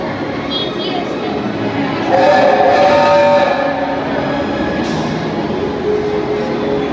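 Steady rumble of a theme-park train ride at Universal's Islands of Adventure in Orlando, with a busy, noisy background, faint voices and children mixed into the din.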